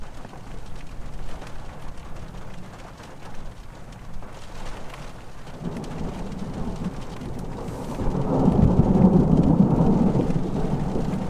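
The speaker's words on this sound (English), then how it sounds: "we just had a pretty good sized rainstorm with thunder" Rocky Mountains campsite during a sizable thunderstorm, steady rain hissing throughout while deep thunder rumbles and swells louder toward the end.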